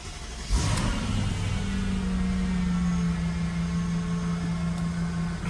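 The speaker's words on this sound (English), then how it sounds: "I'm just going to turn the car on." A Mercedes R230 engine cranks and catches about half a second in, then settles into a steady, fairly close idle hum that continues alone without talk.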